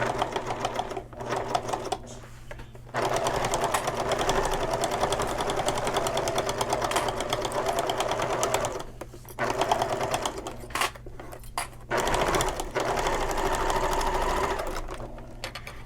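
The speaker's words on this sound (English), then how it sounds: "I like to sew around this whole seam again" A sewing machine stitches the gusset seam of a shoulder bag, running in loud, steady mechanical bursts broken by several short pauses, close up with no talking.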